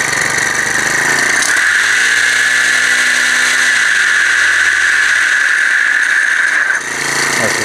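Small engine with a faulty clutch bell on a Honda F400 brushcutter runs loudly and steadily close by, giving a continuous high-pitched metallic whine and rattle, with a lower tone sagging in pitch partway through, and no voices.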